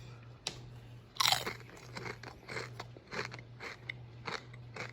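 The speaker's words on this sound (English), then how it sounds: "I'm going to give you guys an ASMR crunch for right now." Spicy Pringles potato chips are bitten and chewed close to the microphone in a series of crisp crunches with softer chewing crackles between them.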